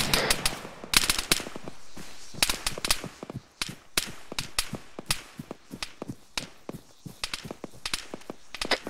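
Machine gun fire in the military shooter ArmA 3 during a British milsim section training, bursts and single cracks of varying distance rattling irregularly through the whole stretch, some shots loud and close, others softer and farther off.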